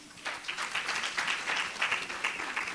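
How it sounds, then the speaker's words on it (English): Applause for the government at a green development forum in Eswatini, a moderate crowd clapping steadily for a few seconds at medium distance, with no voices over it. "let's give the government a round of applause"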